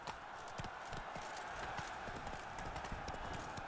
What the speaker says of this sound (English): Summon my horse.